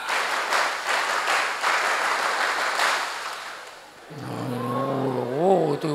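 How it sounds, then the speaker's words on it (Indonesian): Audience at a large Indonesian religious gathering performing a Pramuka Scout clapping routine, a dense burst of clapping for about four seconds before it cuts off and talk follows. "Tepuk pramuka."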